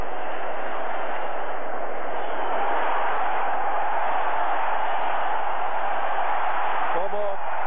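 A cricket stadium crowd in Bombay applauds during the 1987 World Cup semi-final between India and England, a dense, steady wash of clapping and crowd noise that holds for the whole stretch, with a brief voice surfacing near the end.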